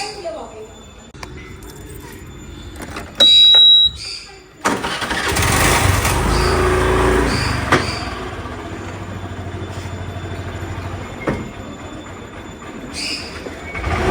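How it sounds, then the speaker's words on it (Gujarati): A scooter engine starts outdoors in bright sun. A short burst comes first, then a sudden catch followed by a steady low engine rumble that slowly fades, with a few thin squeaks and knocks around it. "ફૂલ તડકામાં સ્કૂટર લઈને જાય છે"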